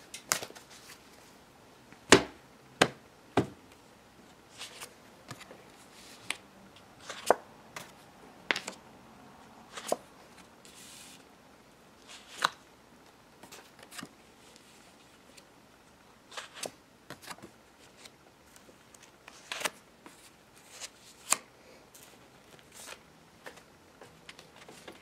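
Tarot cards are shuffled and picked. Soft, scattered snaps and flicks of card stock sound close and quiet, with irregular pauses between them.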